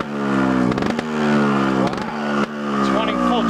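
An FZR motorcycle engine runs on full choke with a loud, close, steady buzzing drone that dips and surges a few times. People talk over it.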